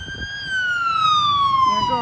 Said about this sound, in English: An ambulance is coming along while we're at the cemetery.